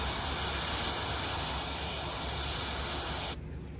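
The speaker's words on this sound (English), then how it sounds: "the coolant sprays out and it freezes the sculpture" Coolant from a canned-air duster held upside down sprays onto a sculpture in a steady, close, loud hiss lasting a few seconds before cutting off abruptly.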